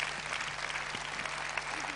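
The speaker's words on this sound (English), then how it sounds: "Give a big round of applause." An audience claps in a brief burst of steady, moderately loud applause at a sales training event.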